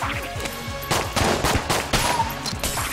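Rapid bursts of game gunfire in Enter the Gungeon, quick repeated shots layered over a busy music-like background, loud and continuous with a few heavier blasts.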